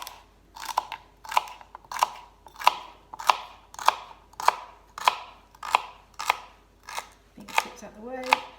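A knife chops a vegetable on a cutting board in a steady run of about a dozen crisp, evenly spaced thuds, close and clear, with a slightly different clatter at the end.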